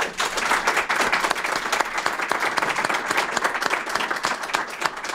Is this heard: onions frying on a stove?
no